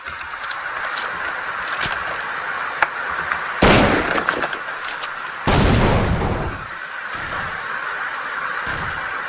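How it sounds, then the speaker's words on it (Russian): A grenade detonates in Counter-Strike 1.6 on the de_inferno map, two loud broad blasts a couple of seconds apart over steady game ambience, with faint scattered clicks and shots around them. "Сейчас гранаткой проверим. Кидаю гранату."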